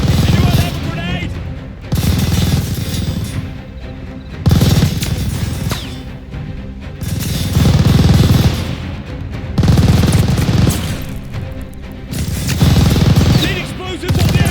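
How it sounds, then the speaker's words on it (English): An enemy machine gun in Call of Duty Vanguard fires loud, close bursts of several seconds each, separated by short lulls, with battlefield noise and shouting voices mixed underneath. "Enemy machine gun!"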